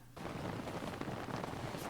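Steady rain falls in an outdoor scene, a dense, continuous hiss of drops with no voices over it.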